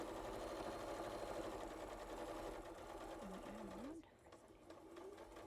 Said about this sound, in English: let me know if the sewing machine is too loud